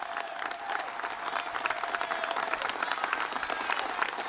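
A crowd at a political speech bursts into dense applause and cheering, steady rapid clapping that grows slightly louder toward the end, heard from a distance.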